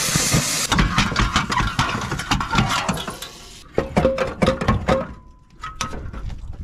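A loud, raw Ford engine with no exhaust idles and revs in uneven bursts, with sharp popping crackles, then settles briefly before revving again.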